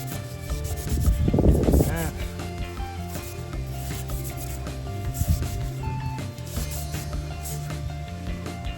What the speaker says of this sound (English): I take the scrub pad here and I'm going to wash the outside here too.